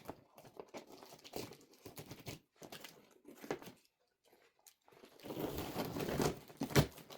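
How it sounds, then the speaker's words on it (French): A cardboard parcel box is opened by hand with bursts of crinkling, scraping and tearing at close range, separated by short pauses, building to a denser stretch of rustling near the end. "On va ouvrir le carton ensemble."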